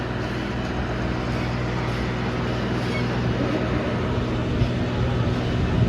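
A tractor engine runs steadily throughout, a continuous low mechanical drone with a broad rumble, heard close and at an even loudness with no talking.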